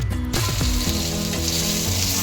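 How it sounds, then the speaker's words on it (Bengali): Pointed gourd (potol) frying in hot oil gives a dense, continuous sizzle close by, with a few soft scraping knocks in the pan near the start. "আমাদের পটলগুলো ভাজা হয়ে গেছে।"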